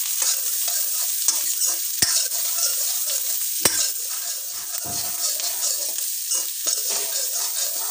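Onion and capsicum are stir-fried on a high flame for an Odia jackfruit chilli dish. Steady, close sizzling and frying runs throughout, with a few sharp clinks of a utensil against the pan.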